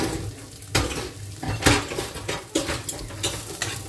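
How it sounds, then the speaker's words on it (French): Onions being stirred in a cooking pan, a run of sharp utensil clacks and scrapes against the metal at irregular intervals over a low background, close and clear, with no talking. "Je remue les oignons en laissant bien cuire les oignons"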